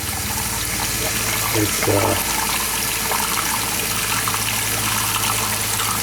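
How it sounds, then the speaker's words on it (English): Hot water runs hard from the faucet of a 2025 Wildwood 26ICE RV, a loud, steady, close rushing stream with a voice briefly speaking over it. "you can see I'm using the hot water first, and there it is."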